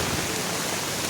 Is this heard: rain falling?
yes